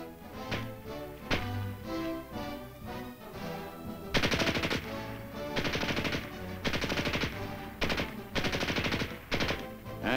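Gunfire from a U.S. Rifle M1 and U.S. Carbine during military training, with loud sharp shots over a dense, busy background. The bursts get more intense and rapid in the second half.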